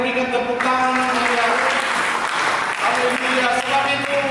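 A church congregation applauds during a sermon, with dense, steady clapping filling the space while music or voices sustain tones underneath.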